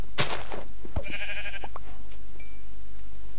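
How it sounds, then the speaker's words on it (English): Sheep bleating in the Minecraft video game: a loud bleat at the start, then a second sheep bleat near the middle among small game sound effects, no talking. "Oh, there's some sheep, speaking of the devils."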